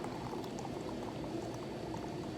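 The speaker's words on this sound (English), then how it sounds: "you're going to pour hard, straight down" Nitro beer poured hard, straight down into a glass, giving a steady, rushing, fizzing gush of liquid at close range with no talk over it.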